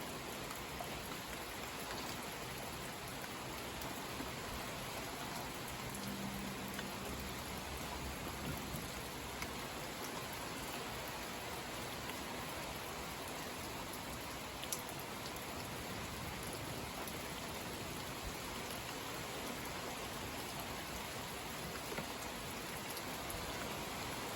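Steady rain pours down in a dense, even hiss, drops pattering on surfaces without letup, close and constant throughout.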